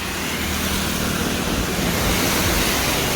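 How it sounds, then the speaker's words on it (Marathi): Heavy monsoon rain pouring with strong wind during the Pandharpur Wari pilgrimage between Khandala and Wadgaon, a dense, loud, continuous roar filling the whole clip with no voices. "एवढा जोरात पाऊस चालू आहे"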